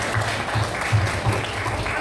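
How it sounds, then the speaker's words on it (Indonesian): A classroom group claps together, a short burst of brisk, overlapping hand claps that holds steady for a couple of seconds at close range. "Kasih aplaus untuk kalian semua."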